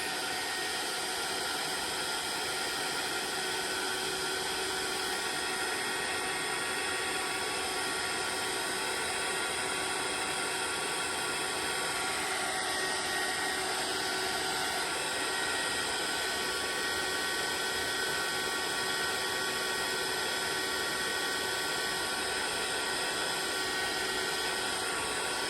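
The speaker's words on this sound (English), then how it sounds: "I'm going to use my heat gun" A heat gun blows steadily while drying watercolour paint, a continuous loud, even whooshing roar with a faint whine that stays unchanged from start to finish, with no voices.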